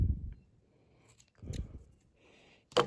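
Scissors give a few brief, quiet snips, spaced apart, while trimming excess yarn off a knitted hat made on a Sentro knitting machine.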